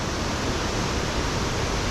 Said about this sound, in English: I hear running water.